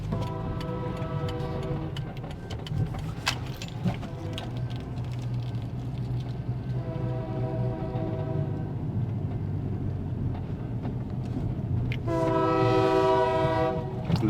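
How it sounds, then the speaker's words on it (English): A train horn sounds over a low, steady rumble of rail cars, first early on, again around the middle, and strongest and nearest toward the end, with a constant rolling drone throughout and no one talking. "There's a train coming."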